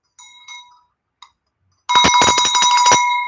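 A small bell rings, first as a few soft isolated tings, then as a rapid loud burst of bright metallic strikes that keeps ringing close up.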